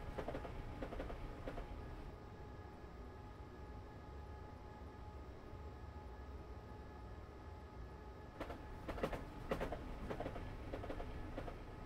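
Train Simulator 2018 locomotive running at speed on the Brighton Main Line, a steady rumbling roll with rhythmic rail clatter and brief louder bursts of clacking near the end, no voices.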